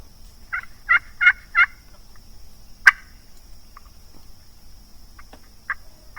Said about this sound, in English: At least 2 birds gobbling.